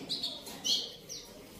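A caged AFS songbird gives a few short, high chirps in quick succession, fairly faint over a quiet indoor background with no talking.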